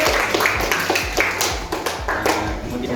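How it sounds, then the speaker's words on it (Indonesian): Audience clapping for a presenting student group at a classroom presentation session, a steady patter of many hands with some louder sharp claps close by, continuous through the moment. "Kita kasih aplaus kepada kelompok"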